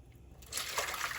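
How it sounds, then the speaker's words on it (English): Water pours into a pan to make a water bath for a cheesecake, starting as a quiet trickle and then swelling into a steady, close-up splashing rush. "we're gonna fill it up with water."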